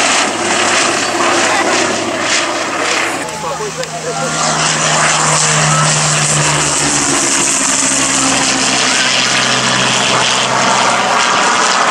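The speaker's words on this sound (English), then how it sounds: "the lovely sight and sound of the Western Lysander" A Westland Lysander propeller aircraft flies at an airshow, its radial engine a loud, steady droning roar that holds throughout, with a commentator talking over it.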